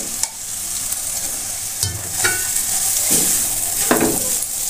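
Tomato and spices stirred and fried in a pan produce a continuous close sizzle with repeated scraping strokes of a spatula, and no one speaks.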